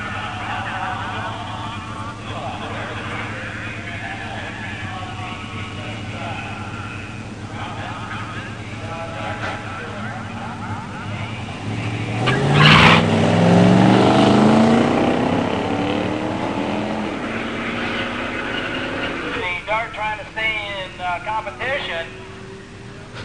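A 1969 Dodge Dart 340 automatic and a 1987 Buick Grand National at a drag strip, engines rising to a loud roar midway as the cars launch and pull away, under an announcer's voice.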